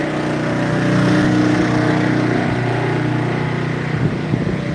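A small engine on a log splitter runs at a steady idle drone, close and continuous, with a slight swell in the middle and no talking.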